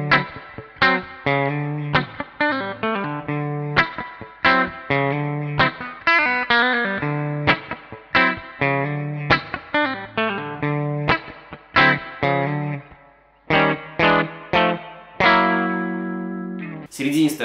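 A 2002 Korean-made ESP LTD MV-200 electric guitar on its dual-rail pickup plays heavily distorted, chugging riffs with palm-muted stops, loud and continuous with effects coloring the tone.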